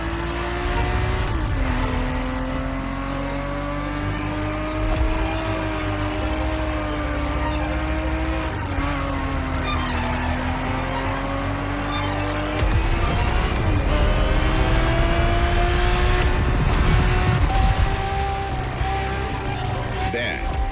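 A Ferrari 365 GTB4 race car from the 1970s, driven in The Crew Motorfest, holds a steady engine drone that rises and falls through gear changes, with a brief tire squeal and louder revving past the midpoint.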